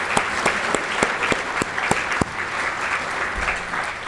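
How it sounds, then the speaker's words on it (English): Steady audience applause at a college foundation scholarship celebration, dense and loud with sharp individual claps standing out, continuous for the whole stretch with no talking. "that deserves an applause"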